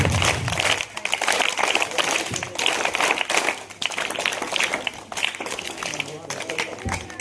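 Schoolchildren perform a scout clap together, a loud run of rhythmic group clapping in sharp bursts with brief pauses between them, mixed with voices.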